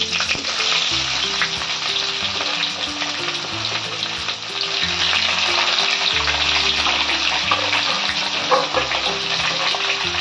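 Onions fry in hot oil with chillies for a Bengali rui fish kalia, producing a dense, loud, continuous sizzle with occasional stirring scrapes and no speech.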